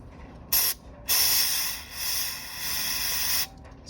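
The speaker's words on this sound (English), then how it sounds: "got the carb spray." Carburetor cleaner sprayed onto a pit bike carburetor, a close, loud hissing spray in a brief burst followed by a longer continuous spray of about two and a half seconds.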